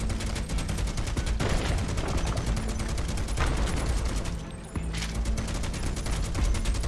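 Video game gunfire in Final Fantasy 7 Rebirth's Mithril Mines, a rapid, continuous stream of shots with dense repeating cracks and a short lull near the middle.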